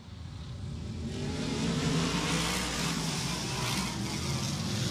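Modified race cars at Bowman Gray Stadium accelerate together at a restart, a broad engine roar that builds and holds steady, heard from a distance without commentary.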